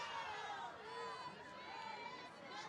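A football stadium crowd at a high school game rumbles and calls out in a sustained, distant wash of voices after a penalty flag, the noise steady and fairly faint throughout.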